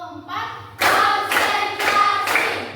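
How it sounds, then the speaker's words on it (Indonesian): A classroom group claps in unison on a teacher's count, sharp broadband bursts landing roughly every half second in a steady counted rhythm after a brief quieter lead-in, close and loud. "Tepuk 1. Tepuk 2. Tepuk 3. Tepuk 4."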